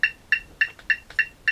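Quick, steady metronome clicks at 208 beats per minute, crisp and evenly spaced, about five ticks heard alone on a drum practice track.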